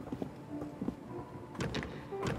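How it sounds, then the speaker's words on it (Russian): A door sliding shut in the horror game Gravewood High, a short mechanical scrape and thud among faint room noise and soft background tones. "Дверь закрылась."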